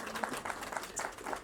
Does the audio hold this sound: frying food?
no